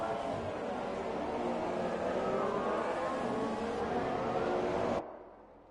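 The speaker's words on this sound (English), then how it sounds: "Cars pulling into position now as we get set for the Chinese Grand Prix" Formula 1 cars on a formation lap at the Chinese Grand Prix in F1 2017, engines droning together continuously before cutting off abruptly near the end.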